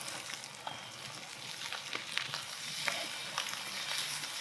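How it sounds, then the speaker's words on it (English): Strips of bacon sizzling on a griddle set over coals outdoors, a steady bright crackle and hiss with scattered pops, close and continuous with no talking. "That's the sound we wanna hear, that nice sizzle."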